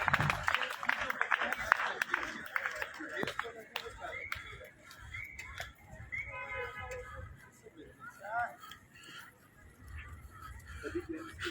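Applause from a crowd at a campus games event fills the opening seconds, dense and fairly loud, then thins into scattered clapping and murmur with distant noises and voices through the rest.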